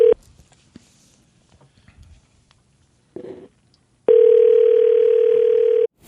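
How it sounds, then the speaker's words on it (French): A telephone dial tone sounds loud and steady for nearly two seconds after a few faint clicks and short tones while a number is dialed, cutting off abruptly. "donc Luc va composer"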